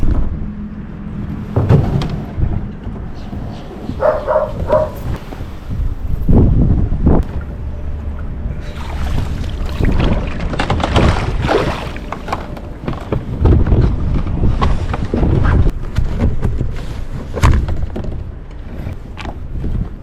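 Strong gusty wind buffeting the microphone while kayaking near reeds, a steady broadband roar with surging gusts and occasional paddle or water noise, close and loud throughout with no talking.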